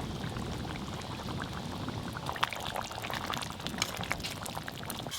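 Silver fish do peyaja gravy simmering in a pan, a steady close bubbling and hiss with scattered small pops and crackles throughout.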